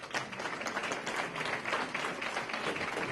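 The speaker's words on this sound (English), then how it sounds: "Ladies and gentlemen, another round of applause." A crowd applauds at an outdoor-style Veterans' Day ceremony, many hands clapping in a steady, dense wash that holds at an even level throughout without talk.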